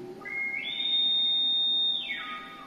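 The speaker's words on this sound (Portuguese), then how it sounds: "como se fosse um apito mesmo, ó, um apito grave, tá? Ó. E um apito agudo" Test tone from the oscillator of an Allen & Heath QU-32 mixing console: a pure whistle-like sine that starts lower, steps up to a high steady pitch, holds, then glides back down, alone and clear.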